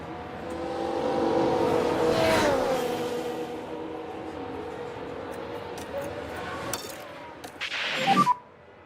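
A race car pit stop in F1 Manager 2024 at the Austrian race: a steady engine drone, then a short cluster of sharp mechanical rattles and clanks near the end, with no talk.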